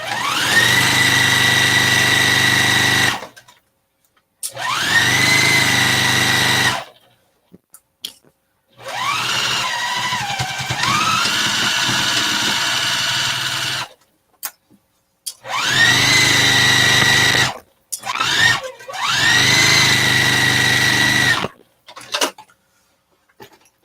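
A sewing machine stitches fabric for fat quarter project bags with zippers, running in several sustained whirring bursts of a few seconds each, separated by short silent pauses, close and fairly loud.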